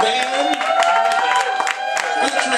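An audience claps and cheers at a live show. The dense, steady applause runs throughout, with sustained musical tones ringing beneath it.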